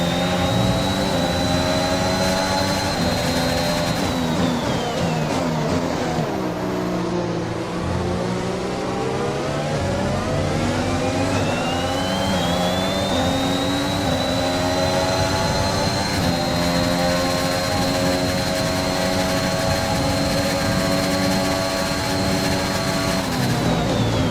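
A Formula 1 car engine in the F1 2021 racing game drones loud and steady, its pitch dropping through a braking downshift then climbing back and holding high under acceleration, with no talk.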